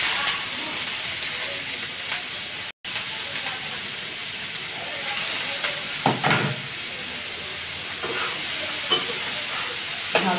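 Chopped potato and bottle gourd peel fry in a pan, a steady close sizzle and hiss broken by a brief cutout and a few stirring scrapes, with no talking.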